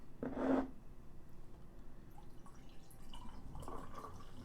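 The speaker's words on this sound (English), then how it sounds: "I will pour my beverage into my mug and drink from it." Beverage poured into a mug, a short liquid gush near the start followed by faint quiet dribbles and a soft later splash, fairly close in a quiet room.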